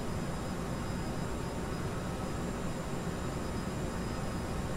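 Aerosoft CRJ regional airliner on autopilot in Microsoft Flight Simulator 2020, a steady broadband cockpit and engine roar at even volume throughout with no talk.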